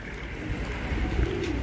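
Racing pigeon cooing at a loft, a soft low murmur sitting in a steady wash of background noise, with a brief bird chirp standing out near the middle.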